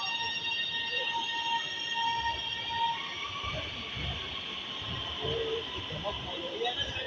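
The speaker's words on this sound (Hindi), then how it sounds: "ये जी ट्रेन चलती रही है।" A Lahore Orange Line metro train runs with a steady rolling rumble and high tonal whine, a continuous mid-loud hum lasting throughout, with faint background voices.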